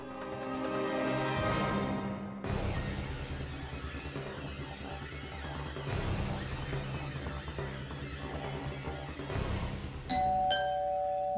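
An electronic doorbell chimes repeatedly, several ringing tones in sequence with lingering decay, loud and close, followed by a brief higher electronic tone.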